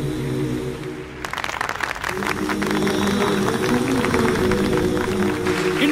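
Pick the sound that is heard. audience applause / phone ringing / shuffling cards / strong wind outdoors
audience applause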